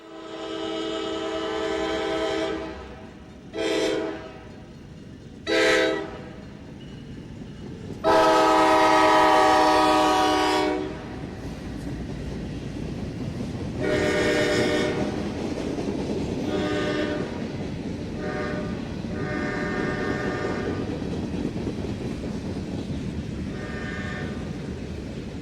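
A Norfolk Southern freight train of empty center beam lumber flats and covered hoppers, with a high-nosed 38-2 locomotive, rumbles past with a loud, blaring horn in several long blasts, then wheels clatter rhythmically along the track as the cars roll by.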